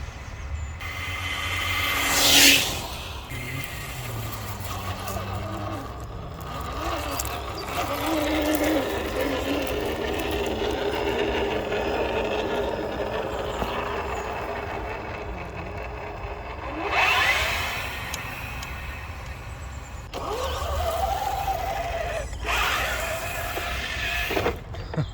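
A Traxxas TRX4 Defender RC truck at full throttle in second gear, its electric motor whining up in sharp surges between stretches of steady, gritty running noise, heard fairly close.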